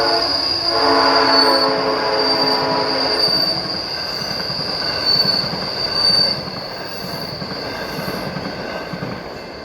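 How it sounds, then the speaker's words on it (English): A train rumbles past close by near corn fields, its wheels letting out a long, loud high-pitched squeal that holds steady and then slowly fades as it goes. "You guys can see that the train is coming"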